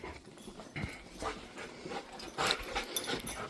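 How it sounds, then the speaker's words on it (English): A German Shepherd and an American Staffordshire Terrier whimper and pant up close at home, with excited, uneven bursts of whines and breathy pants and no human talk. "I have a German Shepherd and an American Staffordshire Terrier."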